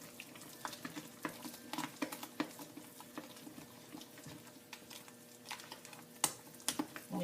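Hot process soap batter made with dandelion-infused rice flour, shea and added fragrance being mixed in a pot, a faint run of soft scrapes, wet squelches and light clicks repeating irregularly.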